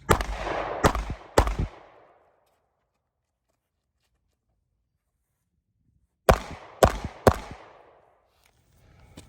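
Two bursts of three sharp, loud gunshots at a shooting range, each crack trailing into a short decaying echo, separated by several seconds of silence, with faint noise creeping in at the very end.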